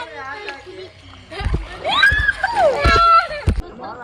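Children splashing in a small kids' swimming pool at a resort in Dandeli, light water splashes and sloshing beneath excited children's voices and squeals.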